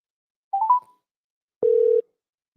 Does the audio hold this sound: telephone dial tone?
yes